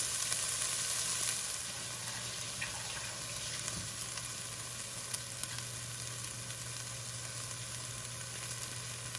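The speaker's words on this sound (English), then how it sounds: "you're basically cooking to soften the onions" Onions soften in oil in a deep pot, making a faint, even sizzle over a constant background hum, with one or two soft clinks and no talking.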